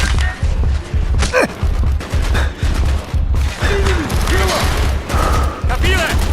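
Call of Duty: Black Ops gunfire, loud repeated bursts of shots in quick rhythm across the scene with whooshing effects and shouted game voices between them.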